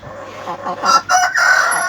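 A Denizli red rooster lets out one long, drawn-out crow, loud and close, lasting nearly two seconds.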